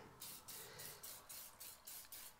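An old aerosol spray paint can sprays in quick, regular hissing bursts, streaming more than misting, about eight short puffs in a row, close up and soft.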